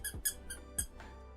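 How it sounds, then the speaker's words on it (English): A few short, high squeaks with soft knocks come from a Big Tree Tech 3D printer motherboard handled at close range, quiet and alone. "It squeaks."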